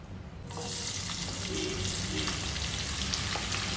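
Sliced onions, three of them, frying in a generous amount of hot oil for prawn biryani, a steady loud sizzle that begins abruptly as they hit the pan and continues evenly.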